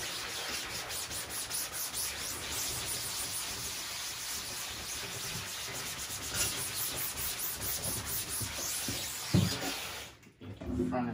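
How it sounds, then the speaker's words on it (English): A scrubber brushes back and forth over a screen-printing screen, a steady broadband rubbing and swishing that runs continuously, close and fairly loud, with a brief bump near the end. "And you get your little scrubber, get the right one, and you scrub."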